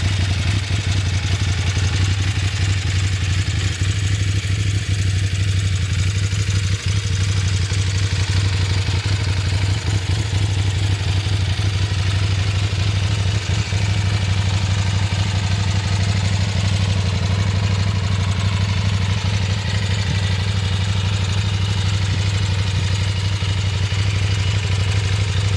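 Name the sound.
KOVE 800X motorcycle engine idling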